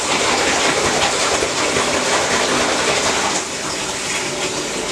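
A hand swishes and agitates water in a basin to wash latex clothing, a steady loud broadband sloshing rush that runs nearly unbroken throughout and eases slightly near the end, with no talking.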